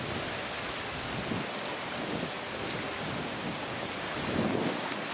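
Steady rain hisses down at Titisee lake, a broad constant wash of drops with occasional low gusty swells, and no voices.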